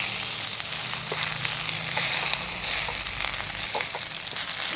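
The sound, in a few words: gongura leaves frying in a pan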